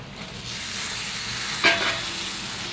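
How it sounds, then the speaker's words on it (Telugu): Five tomatoes tip into a hot pan of green chilli paste for an eggplant and dry fish curry, setting off a steady close sizzle that rises with a brief burst midway and continues evenly, no voices. "టమాటా వేస్తున్నానండి ఇవి ఒక ఐదు టమాటాలు అండి"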